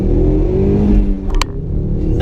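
Cobb-tuned 2015 Ford Mustang EcoBoost pulling hard under acceleration with a burst of wheel spin, a loud, close, steady engine roar from inside the car.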